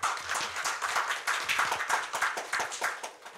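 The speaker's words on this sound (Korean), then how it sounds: "큰 박수로 환영해 주시죠" At a research forum, a hall audience applauds to welcome a speaker: dense, steady clapping from many hands, fairly close and continuous throughout.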